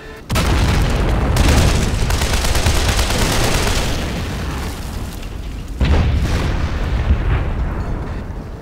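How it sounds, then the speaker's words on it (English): A German artillery salvo exploding in the video game Men of War: a loud, close blast kicks off a long rumbling roar that slowly fades, then a second heavy impact hits and rumbles on. "The Germans are firing another salvo artillery deep into my line now."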